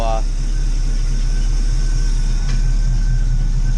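A carbureted engine in a 1984 Cutlass idles smoothly with the choke off, a loud, steady low rumble close by with no break throughout.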